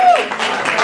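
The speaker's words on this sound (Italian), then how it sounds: "A me sembra una bella frase e credo che meriterebbe anche un bel applauso." A concert audience applauds, a short burst of dense clapping from a crowd, loud and close, with a voice briefly over it.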